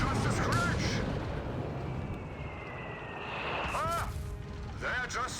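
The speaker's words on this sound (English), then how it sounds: "They're just mortar shells." Mortar shells exploding in the strategy game Company of Heroes 3, dull rumbling blasts over continuous battlefield noise, with several whistling incoming rounds descending before the impacts and a commentator talking over them.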